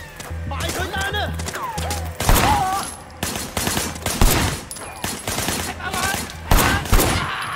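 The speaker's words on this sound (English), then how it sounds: "Shooting at the guys over there." Gunfire in the Sleeping Dogs Definitive Edition video game during a club fight, with bursts of rapid shots and sharp single cracks set among game effects and music while someone talks over the action.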